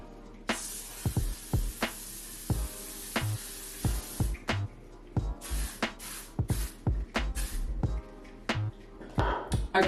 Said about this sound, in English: I'm gonna take the L'Oreal Infallible 3 Second Setting Mist.